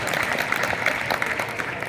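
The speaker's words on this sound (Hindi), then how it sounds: "जरा पीछे के लोग भी ताली बजाना" Crowd applause at an open-air Hindi poetry gathering in Pushkar, continuous dense clapping from many hands at moderate distance.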